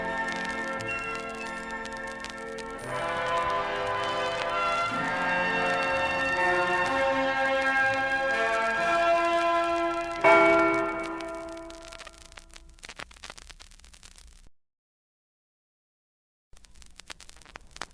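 The Liberty Bell of ancient Philadelphia ringing as a film sound effect, sustained metallic tones that swell and strike again midway, then decay into near silence before a faint return.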